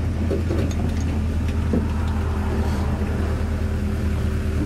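A vehicle with a 4L80E automatic transmission, shifted manually without a computer, pulls away in first gear on snow with slight wheel slip; a steady low engine drone runs loud and continuous throughout.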